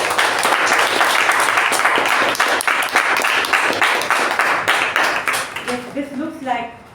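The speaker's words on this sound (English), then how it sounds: "Let's give a huge round of applause to the evaluator and the speaker." Sustained applause from a meeting audience fills the room with dense, steady clapping, loud throughout and tapering near the end, where a voice begins to speak.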